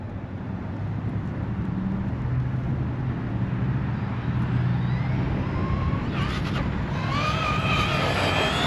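A Traxxas Rustler 2WD VX3 RC car on 3S power runs at full throttle in a speed run, a steady loud motor whine that climbs in pitch near the end, with no speech.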